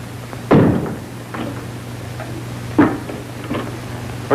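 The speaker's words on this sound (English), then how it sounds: "Close that door." A door swings shut with a heavy thud, followed by a second, lighter knock a couple of seconds later, set against a steady low room hum with no talking, as in a 1940 film scene.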